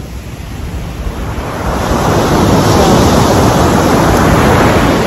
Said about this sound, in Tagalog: ang laki-laki ng alon